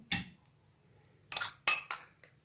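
A spoon clinks against a glass while scooping soaked basil seeds (tukh malanga) in, with one clear tap followed by three more clinks and scrapes in quick succession, close and fairly quiet.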